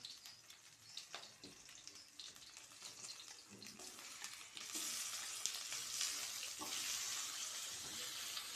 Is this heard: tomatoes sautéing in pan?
yes